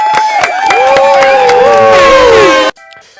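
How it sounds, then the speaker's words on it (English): A cheering sound effect made by voices, loud close whooping and shouting with rising tones, cut off abruptly near the end, leaving quiet talk. "Can you do the cheer sound effect too?"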